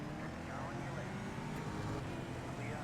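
Loud, droning race car engines roar continuously, with shifting whines as revs rise and fall, filling the whole clip.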